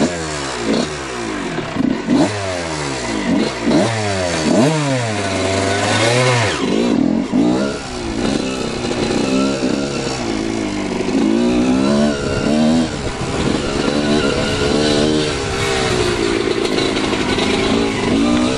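A motorcycle engine runs loud and close, with repeated revving sweeps early on that settle into a steady, throbbing idle with some rough clatter.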